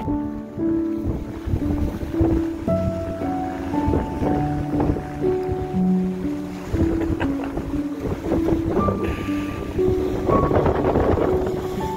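Waves surge and break against the Lake Erie shore, with strong wind buffeting the microphone throughout and steady, full-bodied water noise that swells and crests several times.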